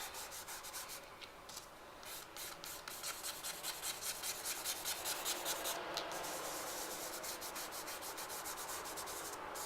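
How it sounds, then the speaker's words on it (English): Vine charcoal rubs and blends across paper in quick, steady scratchy strokes, close and soft, repeating rhythmically without any voices. "I can use my vine to kind of get an undertone and kind of blend it in there"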